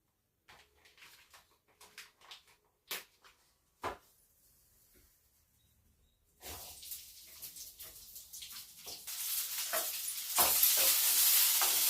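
Onions frying in a pan with a sizzle that rises and thickens toward the end, after a quieter stretch of scattered clinks and stirring knocks.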